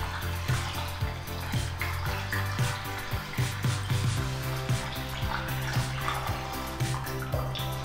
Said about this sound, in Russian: Теперь вливаем 600 мл яблочного сока